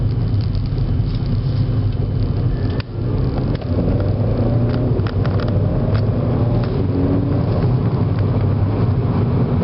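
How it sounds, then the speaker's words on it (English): Skoda Fabia vRS engine running close by, a steady loud drone with a faint turbocharger hiss on top and brief dips where the DSG gearbox shifts, no voices. "you can hear that hiss with that turbocharger"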